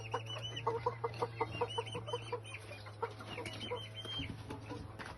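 Farm roosters cluck in a steady run of short, repeated calls at moderate distance, over a constant low hum, with a few calls overlapping near the end.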